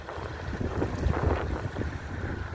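Outdoor wind buffeting the microphone on a chilly day, a continuous low rumbling roar with gusty swells peaking near the middle, loud and close, with no talk.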